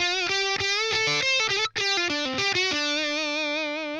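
Heavily distorted electric guitar through a distortion pedal, playing chords and riffs, loud and sustained, with a brief cutout midway before ringing out on a held chord.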